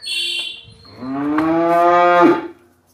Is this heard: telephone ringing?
no